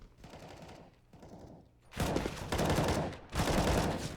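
Dense automatic gunfire from the video game Counter-Strike, heard as two softer bursts followed by louder, sustained volleys that fill the whole stretch, with no talking over them.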